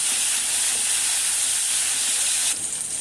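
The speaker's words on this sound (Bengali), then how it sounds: "ওই একই তেলের মধ্যে আমি নুন হলুদ মাখানো উচ্ছেগুলোকে ভেজে নেব" Bitter gourd pieces coated in salt and turmeric frying in hot oil, giving a steady, loud, broad hiss and sizzle that carries on without break and drops slightly in level near the end.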